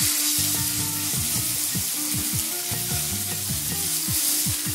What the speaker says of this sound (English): I'm going to sear each side about 2 minutes per side